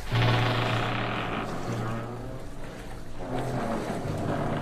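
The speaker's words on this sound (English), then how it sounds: "that faint moaning of the masts and gear chafing and whining to the occasional sly roll of the ship" Low creaking and groaning of a ship's rigging under steady wind and water noise, sustained and fairly loud.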